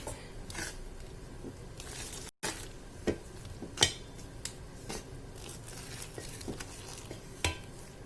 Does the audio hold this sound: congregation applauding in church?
no